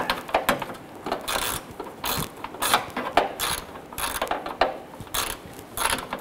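A ratchet works a 10mm nut loose on a 1997-2006 Jeep Wrangler front fender, giving bursts of quick clicking strokes in an uneven rhythm, close and clear.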